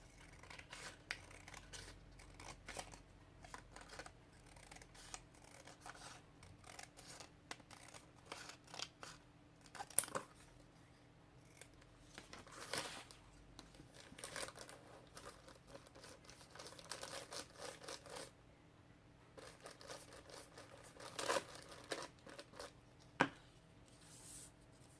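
Scissors cutting pieces of paper for an art journal page: soft, close snips and crinkling rustles repeat irregularly, faint and quiet throughout, with no talk.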